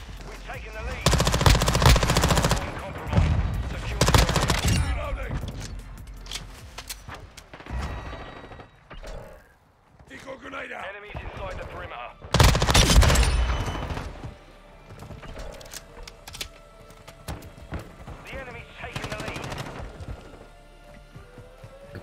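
BAS-P SMG fire rattles in Call of Duty Modern Warfare 2's Shoot House map, loud rapid bursts separated by pauses, mixed with other gunfire, mechanical clatter and game voices.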